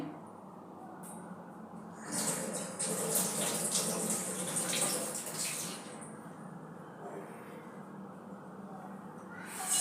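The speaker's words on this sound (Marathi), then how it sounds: "आता अजून एक दोन वेळा धुवूया" Water sloshes and splashes as dried shrimp are rinsed by hand in a bowl, a steady close-up washing sound with a faint trickle.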